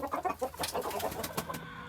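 Broody hens clucking in a farmyard flock, a busy overlapping stream of close, fairly loud clucks and murmurs throughout.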